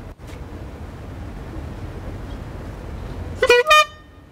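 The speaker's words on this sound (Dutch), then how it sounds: "het eerste schamele toetertje kwam van Theo." Quiz show buzzer horn, a short burst of two or three loud toots near the end after a stretch of quiet background hiss.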